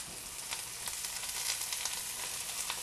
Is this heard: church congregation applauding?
no